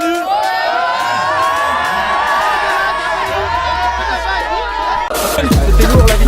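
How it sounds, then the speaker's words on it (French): A lively crowd on a sports field cheers and shouts with whoops over a loud babble of voices. A burst of noise near the end sounds like applause. "On peut applaudir Rabi qui est bon."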